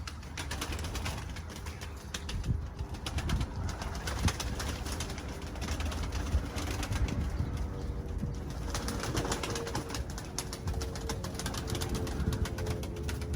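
Pigeons being brought down from flight, their cooing and fluttering wings sounding close and steady against a continuous low rumble, with an aircraft passing overhead.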